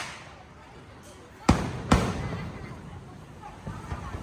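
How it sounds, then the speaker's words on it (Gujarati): Two sharp, loud firecracker bangs burst close together during Diwali celebrations, followed by fainter pops, over a low background murmur. "આ બે ઉજાણી છે ફટાકડા ફોડી રહી છે"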